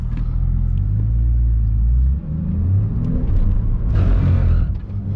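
A Porsche 911 S (991.2) on cold tires revs hard as the rear slides out, a loud close engine rumble that swells and surges, with tire and wind noise rising near the end.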